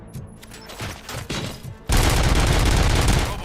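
Gunfire erupts in the RoboCop: Rogue City video game, a loud sustained fusillade of rapid shots bursting in suddenly after quieter preceding sounds.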